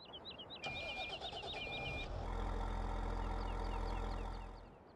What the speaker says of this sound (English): First we're gonna start up the tractor from the inside.